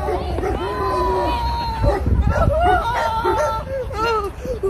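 Several dogs bark and yip in a lively group, with repeated close, excited barks and whines over a background of people talking and exclaiming.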